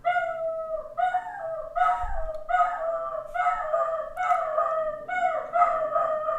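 A small dog howls in a run of rising, wavering, tonal wails, close and clear, repeating about once a second with no talking over it.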